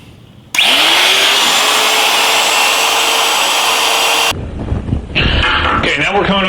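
A loud, steady whine from a power tool carving the top half of a wooden saw-blade shape for a themed wall shelf, running for about four seconds before cutting off, followed by brief speech.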